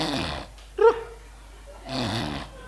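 A person mimics snoring: a short nasal snort-like rasp, a pause, then a longer drawn-out rattling snore, all close and fairly loud with no other talk.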